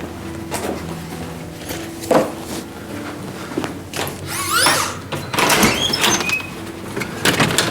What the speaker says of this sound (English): I hear somebody at the door.